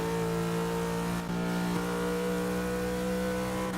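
Race car engine in the Forza 6 video game holds a steady, loud, continuous drone through a lap, with sustained engine harmonics and a brief dip near the middle, with no voices.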